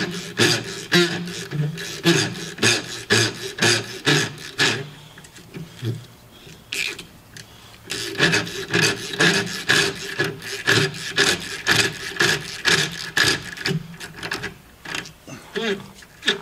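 Metal squealing and rasping while a broken bolt is extracted with twist sockets from a John Deere 670G transmission, a dense run of repeated scraping bursts with a short pause partway through, close and fairly loud.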